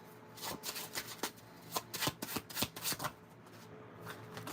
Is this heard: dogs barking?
no